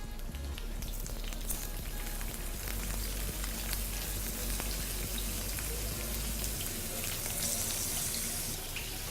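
Shrimp frying in a little oil in a pan, giving a steady crackling sizzle with bright spattering throughout, a low rumble underneath and no talking.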